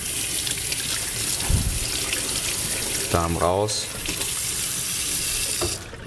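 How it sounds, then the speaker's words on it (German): Tap water runs steadily into a sink as king prawns are rinsed under the faucet, a continuous broadband rush with a brief spoken voice midway over the flow. "Das müssen wir jetzt einfach unter fließendem Wasser ausspülen."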